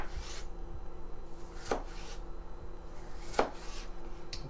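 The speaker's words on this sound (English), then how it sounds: "next we're going to cut the tomatoes and onions" A kitchen knife slices thinly through tomatoes on a cutting board, with a few soft, separate cuts and light scraping, close and quiet, no talking.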